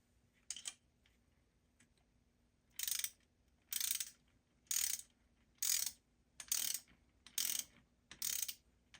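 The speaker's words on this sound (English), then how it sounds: "we need to reinstall the coil bolt" A ratchet tightens an ignition coil bolt on a 2023 Porsche Macan 2.0L Turbo, producing one short burst followed by a run of seven evenly spaced, crisp clicking bursts close by.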